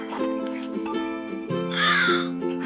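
A crow in a children's story about a thirsty crow drinking from a water pot gives a brief, harsh caw over steady musical tones, close and moderately loud.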